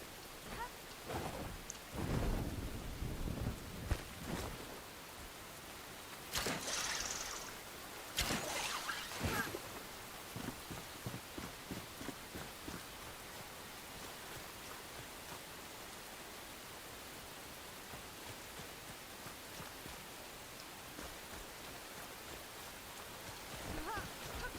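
Stormy weather with sleet in the Enshrouded video game: steady rain hiss under several loud thunder cracks and rumbles in the first half, then a quieter, even patter of precipitation.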